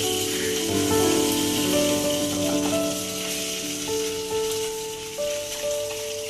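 Ginger and green chili sizzle steadily in a hot pan, a soft continuous frying hiss with faint tonal music running underneath.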